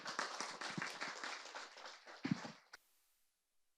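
Audience at a panel discussion on Korea's national symbolic space claps to welcome a vice president to the stage, a dense patter of hands for under three seconds before cutting to near silence.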